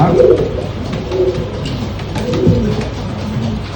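Pigeons in a loft coo repeatedly, several soft rolling low calls close by and overlapping, with no talking.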